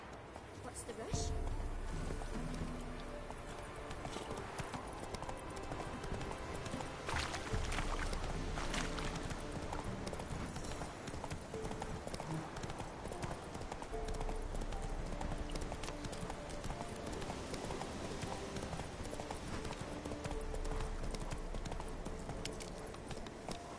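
Horse hooves clip-clop steadily on the move, a close, continuous trotting rhythm from the horse Roach in The Witcher 3, set against game ambience with a voice speaking over it.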